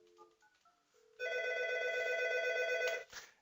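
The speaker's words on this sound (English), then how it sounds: "now I'm going to call 792 to hear the ringing." An Algo 8180 paging extension rings with a steady electronic trill held for about two seconds, following a few soft dial tones.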